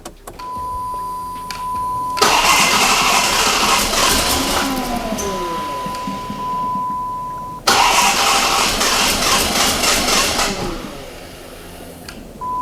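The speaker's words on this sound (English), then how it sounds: "I just want to see if the engine will fire and idle smoothly" Twin-charged Magnum engine with its belt removed cranks and fires up twice, each time settling into a loud, steady idle for several seconds before shutting off, heard close with no talking.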